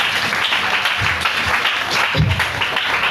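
A church congregation applauding, a dense, continuous wash of clapping with low murmurs underneath, loud and sustained throughout.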